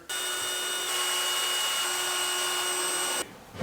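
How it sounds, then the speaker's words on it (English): A power drill bores steadily through 2x6 wooden boards, one continuous high whine lasting about three seconds before cutting off abruptly. "This is boring, but it's got to drill a couple holes here."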